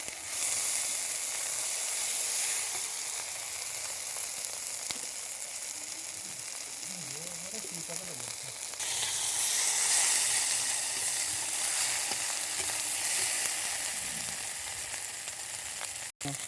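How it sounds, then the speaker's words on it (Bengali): Pieces of fried bata fish stirred in a hot oily pan for a spicy curry, a steady hissing sizzle that grows louder and brighter partway through, with light stirring underneath. "ভেজে রাখা মাছটাই দিয়ে দিলাম, নাড়াচাড়া করে জল দেবো।"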